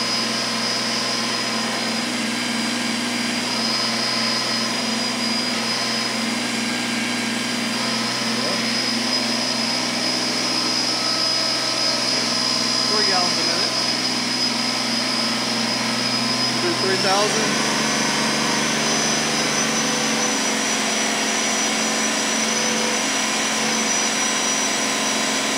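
A Kubota BX2380 or John Deere 1025R compact tractor engine at high RPM: a steady, loud mechanical drone with a bright high whine, holding a constant pitch before shifting slightly partway through.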